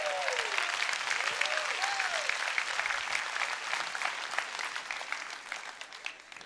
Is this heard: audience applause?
yes